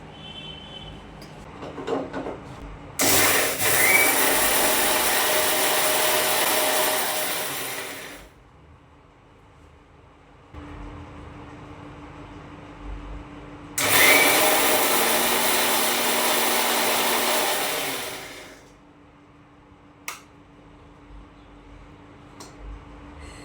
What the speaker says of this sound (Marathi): तर मिक्सरच्या भांड्यामध्ये मिरच्या टाकले आणि आता ह्या वाटून घेते